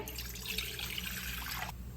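Two glasses of water poured out for making a herbal kadha, a soft continuous hissing pour that lasts under two seconds and stops abruptly, faint and close with no talk.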